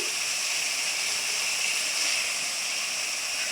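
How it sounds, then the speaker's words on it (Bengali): Spices fried in hot oil in a pan while being cooked down for a meat dish give a steady, even, fairly loud sizzling hiss that continues unbroken throughout. "এই তো মশলাগুলো ভালোভাবে কষিয়ে নিচ্ছি"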